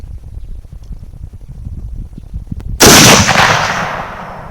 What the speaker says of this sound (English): So I'm gonna start shooting at that first target on the left.